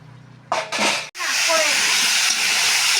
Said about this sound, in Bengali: আলু ভেজে নিচ্ছি ডিম জন্য